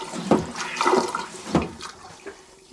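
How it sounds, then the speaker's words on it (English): Hand-operated marine toilet aboard a 1976 boat, pumped to draw in seawater: a few sharp, watery gulping strokes with short pauses between them, close and moderately loud. "You can see go to one side and you pump into the toilet."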